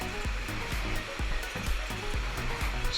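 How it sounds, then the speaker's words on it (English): Rushing water pours down a waterfall near Harrop Tarn, a continuous close roar with soft, irregular low thumps underneath. "If you can hear me over the amount of water."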